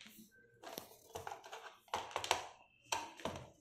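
Faint clicks, taps and plastic rattles come from a computer keyboard being handled and opened up from the back for repair. The light, irregular sounds arrive in small bursts, close and quiet.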